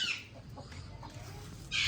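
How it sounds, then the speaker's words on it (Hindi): A Black Polish hen clucks softly a few times close by, short low murmuring notes with rustling around them. "और ये है हमारी दूसरी मुर्गी।"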